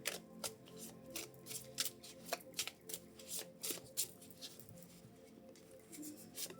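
Oracle cards from the Grand Oracle des Réponses Célestes deck are shuffled by hand in a close, crisp patter of flicks and slaps. The bursts are quick and uneven, and nobody speaks.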